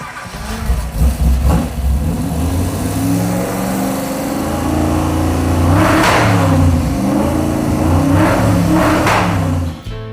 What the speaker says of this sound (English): we were revving the thing up and it was backfiring